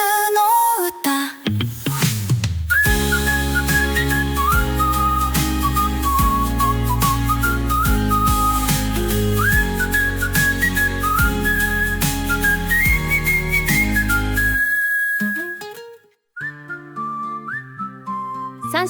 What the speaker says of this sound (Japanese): 3種類の口笛スタイル、